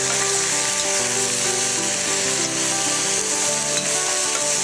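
Salted onions sweating in a hot pan give a steady, close, even sizzle with a soft crackle, continuous and alone throughout.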